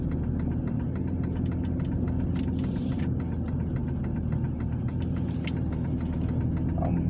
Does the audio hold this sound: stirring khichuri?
no